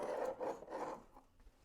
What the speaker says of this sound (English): I'm going to go ahead and scrape out this top slot